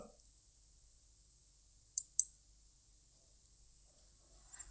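A computer mouse clicks during a bank-account setup on Google AdSense, two quick clicks close together, then a faint third click at the end, in an otherwise quiet room.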